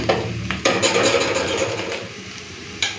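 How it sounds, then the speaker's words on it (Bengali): Prawn heads tossed into onions already fried in a hot pan, giving a steady sizzle with stirring scrapes and a few sharp utensil clinks against the pan, close and continuous. "পেঁয়াজটা ভেজে নিয়েছি এই সময় আমি দিয়ে দেবো চিংড়ি মাছের মাথা"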